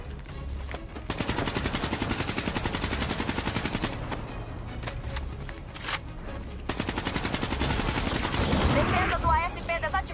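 Light-weapons gunfire in the video game Call of Duty: Black Ops 3 rattles in long, rapid automatic bursts, with brief pauses and a few isolated shots between them, loud and close throughout.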